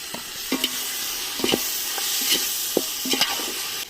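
Steady sizzling of marinated chicken sautéing in a pan for biryani, with a spoon scraping and stirring at irregular intervals, close and continuous.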